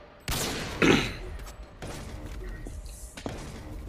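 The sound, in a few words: long range sniper rifle shot in Modern Warfare 2 video game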